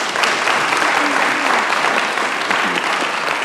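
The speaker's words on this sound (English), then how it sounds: "let's give him another round of applause" An audience gives a steady, loud round of applause at a graduation ceremony, dense continuous clapping filling the whole stretch with no pauses.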